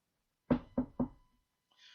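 Three sharp knocks at a door in a quick, even rhythm, loud and close against silence, followed by a faint hiss.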